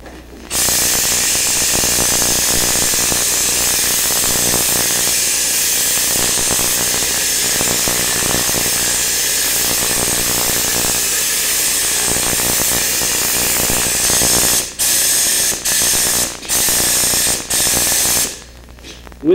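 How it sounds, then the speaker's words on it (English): A spray gun lays a wet coat of Poly Brush in a loud, continuous hiss that holds steady before breaking into several short bursts near the end; no talking. "I'm going to add a little more poly brush to the gun, and we're going to come back and lay our wet coat on now."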